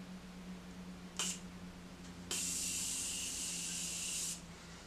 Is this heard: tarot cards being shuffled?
no